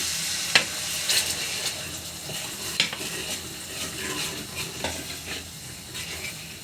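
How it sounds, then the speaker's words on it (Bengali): Chicken curry spices with ginger, garlic and garam masala fry in a pan with a splash of water, a steady close sizzle broken by scraping stir strokes and light clinks against the pot. "তো মশলাটা কষানোর জন্য একটুখানি পানি দিয়ে দিচ্ছি।"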